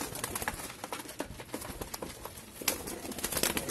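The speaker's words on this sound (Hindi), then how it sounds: "भाई एकदम बेहतरीन कबूतर आए दीप भाई।" Soft cooing of pigeons, with scattered fluttering and shuffling sounds nearby, fairly quiet and with no speech.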